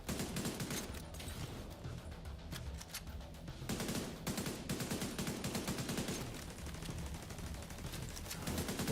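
Rapid automatic gunfire from The Division, dense overlapping bursts firing continuously at close range, loud and relentless with almost no pauses between volleys.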